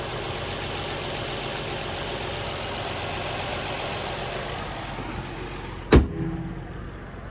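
A 2013 Nissan Maxima SV sitting at idle with the hood open, a steady, even engine hum that holds level for several seconds before a sharp knock or click and a short settling rumble.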